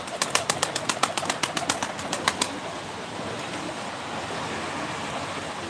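Pigeons in a loft burst into a rapid run of wing claps at the start, then give way to a steady windy rushing background with no voices.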